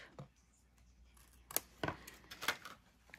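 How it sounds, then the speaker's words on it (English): Scissors snip through score tape at a craft table with a few sharp, close clicks in the second half, separated by short gaps, over a quiet background. "let's give that a little snip"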